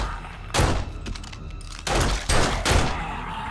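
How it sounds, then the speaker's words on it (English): Several loud, sharp gunshots in the video game 7 Days to Die, in quick succession, some in rapid clusters, with booming echoes and a steady background hum. "It's all the gunshots, man."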